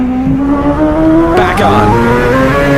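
A Group C race car at Le Mans 1985 in a racing game brakes hard at the 50-meter board: a loud, close engine note drops through downshifts with brief tire scrub, continuous and dominant.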